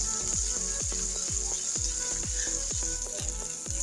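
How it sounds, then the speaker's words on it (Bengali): Peeled garlic cloves fry in oil with a steady hiss of sizzling, while a regular series of low thumping pulses, about three per second, runs beneath it. "রসুনের কোয়াটাও আমি তেলের পর ভেজে নিচ্ছি।"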